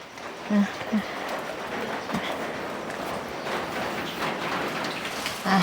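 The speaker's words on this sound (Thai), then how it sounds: "ฝนตก" Steady, heavy rain pours down and drums on surfaces, with a few soft thumps breaking through the constant downpour.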